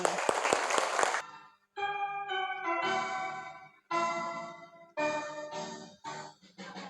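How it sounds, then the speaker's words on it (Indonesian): Elementary schoolchildren in a classroom clap hands in a short, lively burst of about a second, then the clapping gives way to voices singing together in loud phrases with brief pauses. "Tepuk tangan dulu dong buat Rapli nih"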